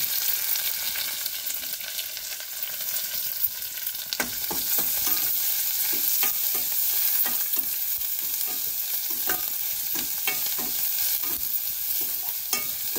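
Curry leaves, onion and green chillies sizzle in hot oil in a pan for a village-style paniyaram kuzhambu, with steady frying hiss and repeated scraping stirs growing busier after a few seconds.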